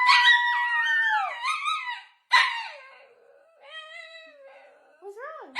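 A dog howls and whines in drawn-out, wavering cries after being barked at by a person, the voice rising and falling in several loud, close bursts with short pauses between.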